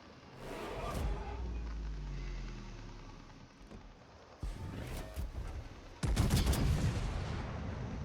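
Naval gunfire from a warship's rear turrets in the online battleship game Schlieffen, loud booming salvos in separate bursts, with the heaviest volley near the end, mixed over continuous engine and battle rumble.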